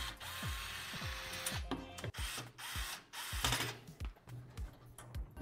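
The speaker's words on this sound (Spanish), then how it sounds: "Sí, hay que quitar esos tornillos." Screws being backed out of a Lian Li EVO RGB PC case with a ratcheting driver, repeated quick clicking ratchet strokes in bursts, close and moderately quiet.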